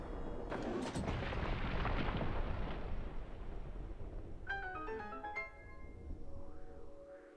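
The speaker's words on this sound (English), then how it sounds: "You want to steer clear from the entrance, because I'm about to blow it up." A bomb blast in the Breath of the Wild game blows up an entrance, a loud rumbling explosion that rolls on for a few seconds before chiming game sounds and fading noise follow.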